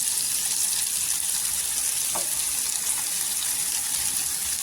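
Freshly washed dill greens dropped into hot oil with onion and tomato for shepu bhaji, giving a steady hissing sizzle with a watery crackle and a faint stir, no talking.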